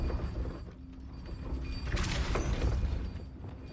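Depulso force spell cast in the Hogwarts Legacy video game, a rumbling whoosh that swells into a loud crashing burst midway, with thuds and clatter over a steady game background.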